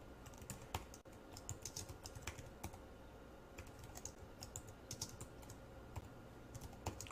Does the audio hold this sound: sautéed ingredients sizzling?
no